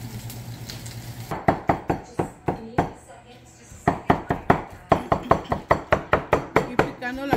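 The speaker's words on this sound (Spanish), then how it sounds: "Aquí picando la carne de cachete." Beef cheek meat chopped for tacos with a knife on a board, a fast run of sharp, evenly spaced knocks in two bursts, close and loud, with sizzling frying and talk in the background.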